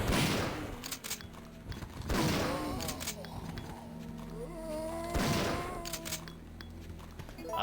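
Shotgun blasts in the PS1 game Resident Evil 3, three heavy booming shots spaced a few seconds apart, each with a long ringing tail, over a constant in-game ambient hum.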